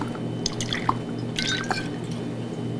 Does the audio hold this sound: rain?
no